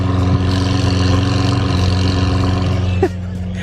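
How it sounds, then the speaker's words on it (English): An 800 hp tuned BMW F80 M3 idles loudly nearby, a deep, steady engine burble with a faint short squeak near the end and no talk. "You can feel the car idling."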